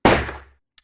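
A single loud gunshot hits a sofa in a psychological horror game, one sharp bang that fades out quickly, followed by a tiny faint click.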